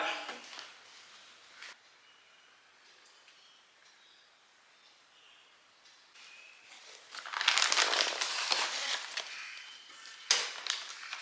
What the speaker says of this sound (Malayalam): പുതിയ ക്യാമറ അത് നമുക്കൊന്ന് അൺബോക്സ് ചെയ്യാം